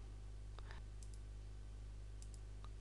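A few faint, sharp clicks of a computer mouse sound in quick pairs over a steady low electrical hum in a quiet room.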